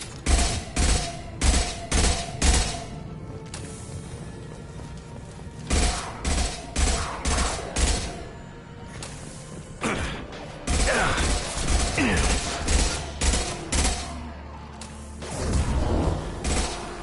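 Repeated bursts of automatic gunfire in Mass Effect: Legendary Edition during a firefight on Omega, loud rapid volleys separated by short pauses, with a brief sustained rattle near the end.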